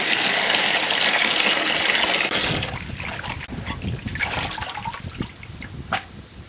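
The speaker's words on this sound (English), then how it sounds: "We're going to wash the Purslane." Purslane greens being washed in water, a loud close gush and splash that settles into softer sloshing and trickling, with no speech.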